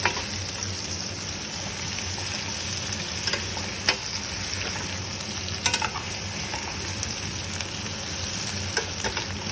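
Spices and vegetables frying in a pan while being stirred: an even, hissing sizzle with occasional scraping strokes, steady and close, with no voices.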